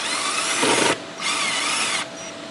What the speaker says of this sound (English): I was going to sacrifice skin for you using the drill the wrong way